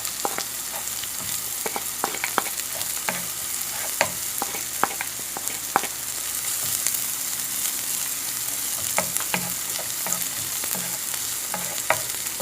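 Garlic sautéing in a pan for pork afritada, a steady close sizzle broken by frequent light taps and scrapes of a spatula stirring it.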